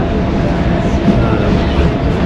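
Loud, steady rumble of a train departing along the rails, a dense low roar filling the whole moment with no pauses.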